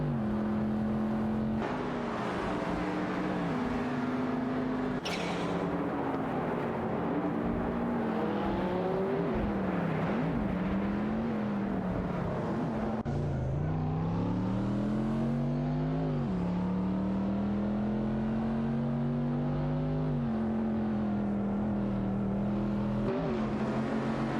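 Race cars from a racing video game, a Porsche 959 and a De Tomaso Pantera J5, rev and shift repeatedly, engine tones climbing and dropping in cycles as they gear up and brake into corners, loud and near, without speech.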